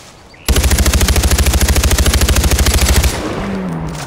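Sustained automatic gunfire in Far Cry 4, a loud close burst of rapid evenly spaced shots lasting about two and a half seconds, then fading into quieter ambience.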